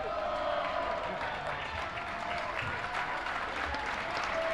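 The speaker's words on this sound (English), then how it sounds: "He gets a nice round of applause." A gym crowd at a boys' high school basketball game applauds a player with steady, dense clapping that runs evenly throughout, moderately distant, with crowd murmur mixed in.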